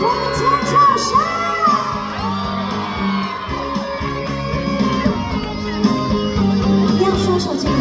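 A large concert crowd screams, whoops and cheers loudly and continuously, a dense roar of voices over music from a live performance.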